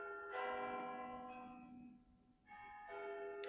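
Rich, resonant church bell tones ring out the hour of five in slow succession, heard from a distance, each strike lingering and fading before the next.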